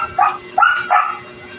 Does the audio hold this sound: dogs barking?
yes